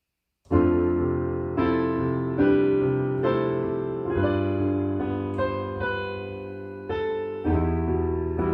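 A piano plays a slow melody in single notes and chords, each struck clearly and left to ring and fade before the next.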